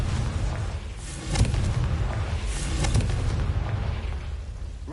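Confringo fire spell detonating in the video game Hogwarts Legacy: heavy, booming blasts over a continuous low rumble, with two sharper bursts standing out, no voices.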